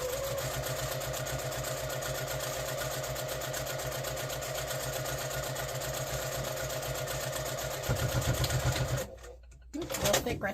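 A sewing machine runs steadily while stitching a seam on a fabric heat pack cover, with a fast even mechanical rattle that speeds up briefly near the end, then stops, followed by a short clunk of handling.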